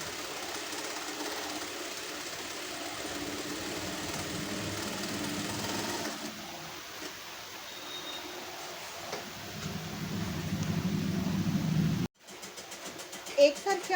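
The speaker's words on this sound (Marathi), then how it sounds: "एकसारखी आपण व्यवस्थित पूर्ण पट्टीला टीप मारून घेणार आहोत." A sewing machine stitches a finishing strip onto a round neckline along a quarter-inch fold, giving a quiet, steady whirring hum that changes tone partway through, with a person talking over it.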